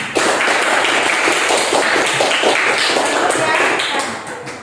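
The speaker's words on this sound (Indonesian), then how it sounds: "Tepuk tangan untuk kita semua." Students in a school classroom clap together, a loud, fairly rhythmic patter of many hands with distinct individual claps, sustained for several seconds before tapering at the end.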